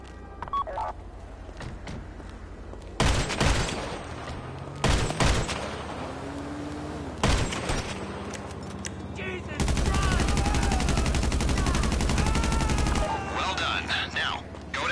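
Gunfire in GTA Online during a prison break heist, several sharp loud shots in separate bursts, then a longer stretch of sustained noise with game sounds around it.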